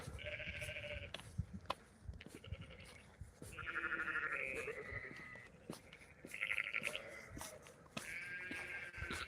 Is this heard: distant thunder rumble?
no